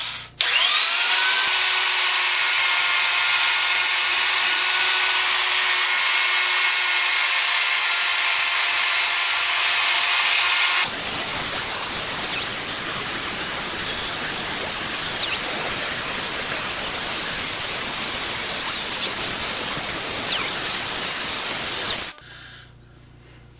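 A single-bit axe is ground on a motor with small 24 grit abrasive wheels, a steady loud whine for about eleven seconds that turns into a rougher, harsher grinding as the blade meets the wheel, then stops abruptly near the end.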